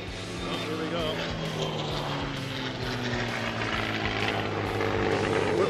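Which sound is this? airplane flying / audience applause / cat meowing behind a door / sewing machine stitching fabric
airplane flying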